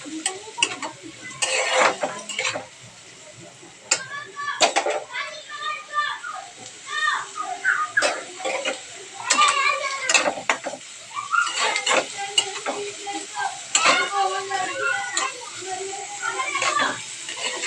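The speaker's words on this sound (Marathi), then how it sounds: "कांदा टोमॅटो थोडा लाल झाला ना, मग आपण त्याच्यात मसाला करूया।" Onion and tomato fry in a pan, a quiet sizzle under frequent scraping stir strokes and utensil clatter, with a voice talking over much of it.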